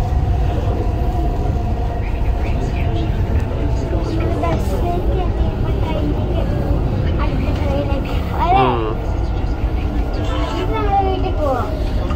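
Continuous low rumble of a Dubai Metro train in motion, heard from inside a carriage, with steady rolling noise beneath nearby conversation and background chatter.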